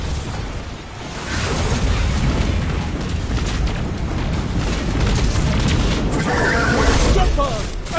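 Missiles explode during a Destiny 2 story mission, loud rumbling booms and crashing blasts filling the scene with heavy continuous battle noise, a voice shouting over it.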